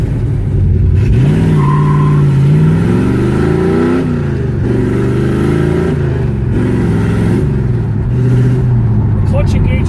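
A 1971 Plymouth Barracuda with a four-speed manual revs up through the gears, its loud mid-range engine note climbing, dropping at each shift and climbing again, heard close from inside the car with talk over it.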